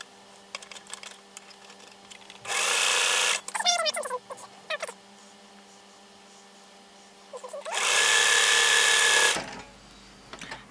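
Sewing machine stitching pieces of a pinwheel quilt block, two sustained loud runs of rapid mechanical stitching separated by quieter handling noises, with a short whirring burst between them.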